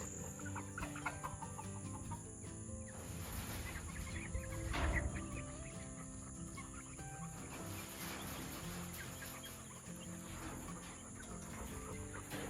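Chickens clucking and murmuring in a coop, a steady mix of soft calls from several birds over faint background noise, no talking.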